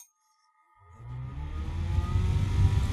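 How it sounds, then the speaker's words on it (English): A small electric fan is held right up to a microphone, its motor and blades building from silence into a loud, steady whirring rush that swells slightly toward the end. "That was actually Bruce holding a small fan up to his mic."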